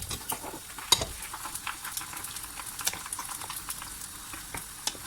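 Creamy beef with mushrooms sizzles steadily in a pan as cream is stirred in, with a spoon scraping and clicking against the pan over the constant frying hiss.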